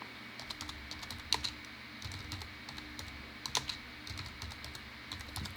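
Rapid keystrokes on a computer keyboard as a title is typed into DaVinci Resolve 17, steady close clicking with a few sharper taps, no voices.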